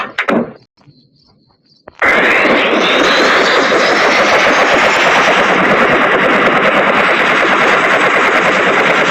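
A helicopter engine in a Roblox prison game starts up abruptly after a short quiet gap, then roars loudly and continuously without letting up.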